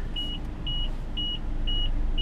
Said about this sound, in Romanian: Acum țiuie un senzor de parcare